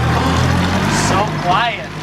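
A boat motor on its maiden voyage, throttle being opened, gives a steady low engine drone that holds through the short stretch while voices talk over it.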